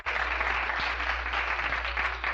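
Audience applause for the Gran Colombia cumbia orchestra at a Bogotá show, a continuous even wash of clapping with a low steady hum underneath.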